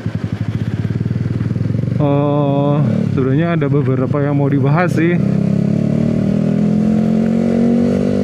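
A Yamaha R15 V3 motorcycle riding, with the engine note rising and falling close by as the rider talks over it.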